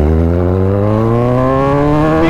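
A Kawasaki Z100 superbike accelerates hard, its engine note climbing smoothly in pitch as it revs up, loud and close for a couple of seconds with no talking.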